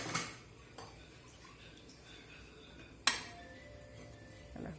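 A pressure cooker lid is opened after broken wheat has cooked for payasam, giving a sharp metallic clink near the start, another loud clank midway and a softer rattle at the end, with quiet kitchen hiss in between.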